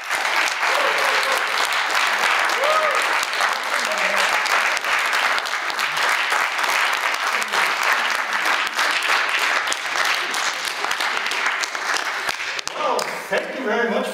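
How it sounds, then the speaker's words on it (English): A packed lecture hall breaks into long, steady applause as a speaker walks in for his last lecture, a dense wash of clapping at even loudness throughout, easing slightly near the end. "you're all applause as if you're happy to be here"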